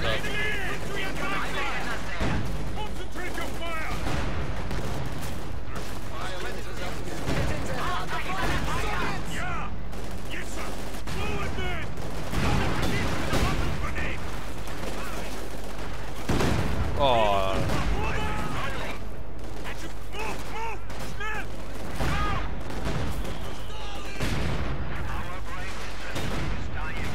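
Constant rattle of rifle and machine-gun fire with booming explosions in the Company of Heroes strategy game, an Osttruppen trench battle, dense and continuous under shouted unit voice lines.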